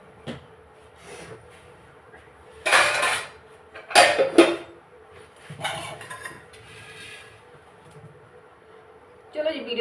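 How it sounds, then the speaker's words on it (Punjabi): Washing dishes in a home kitchen, a few separate clattering bursts of pots and metal utensils knocking together, fairly close, with quiet gaps and faint background sounds between them. "ਹੁਣ ਭਾਂਡੇ ਮਾਂਜੂਗੀ"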